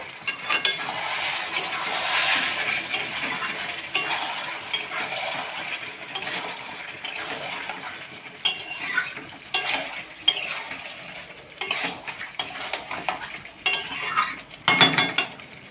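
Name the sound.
stirring potato chicken curry in a pan after opening the lid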